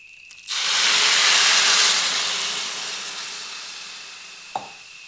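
Water poured into a pan of fried rice for Bengali Basanti polao, a loud rushing hiss and sizzle that starts suddenly, then gradually settles into a softer bubbling, ending with a short clink.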